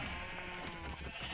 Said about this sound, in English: there is a lot of sheep